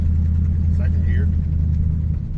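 Old Ford Mustang with worn-out power steering, driving in second gear, with a steady loud low engine rumble throughout and a voice talking briefly over it.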